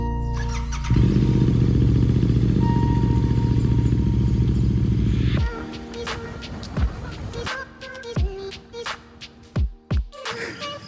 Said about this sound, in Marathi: त्याचं झालं की बाईक स्टार्ट करणार आणि निघणार.